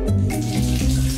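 A household tap runs, giving a loud, close rush of water with a strong humming, whining tone, as if from the pipes, that shifts pitch a few times.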